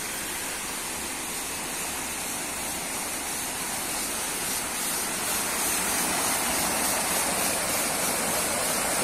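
Water rushing down a creek over a small waterfall at Água do Ó in Santa Fé, Paraná, Brazil, a steady, loud, continuous broadband splash and roar running unbroken throughout with no voices.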